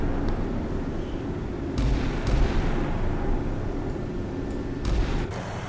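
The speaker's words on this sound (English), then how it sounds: "the 5-inch gun's gonna try and do her thing" A naval 5-inch deck gun firing in the Sea Power naval game, a few spaced heavy reports over a steady rumbling background of engine and sea noise.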